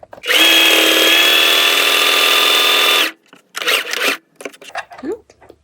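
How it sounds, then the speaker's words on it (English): A sewing machine stitches fabric for an extra-large scrunchie in a steady loud whirring run of about three seconds, followed by short handling noises and bits of fabric movement. "I just make sure that it's aligned, and just keep on sewing."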